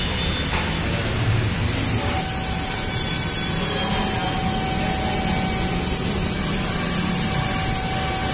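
Chainsaw oil sprayed from an aerosol can onto the chain of a Commuter Deluxe motorcycle during an oil change: a close, steady, loud hiss that runs unbroken for the whole stretch, with no talking.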